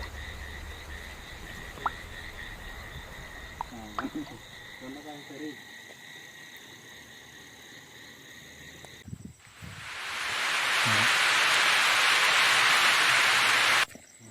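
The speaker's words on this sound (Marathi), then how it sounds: "फिरता फिरता अचानक पाऊस यायला लागला" Frogs croak intermittently against a steady insect drone at night near a farmhouse, then heavy rain suddenly roars in, loud and hissing, before cutting off.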